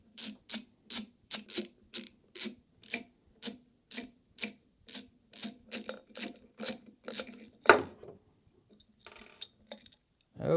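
A TR10 security bit in a screwdriver ratchets repeatedly while backing out long screws from an FS IPC-304-8M-B PoE IP camera: steady close clicking bursts, about twenty in a row, then a louder clack and a few softer rattles.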